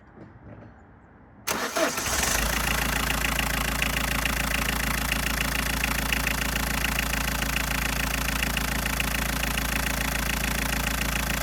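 Old turbo-diesel in a 2000 Ford Mondeo LX estate cranks briefly, catches and settles into a loud, steady clattering idle, close up with no voices.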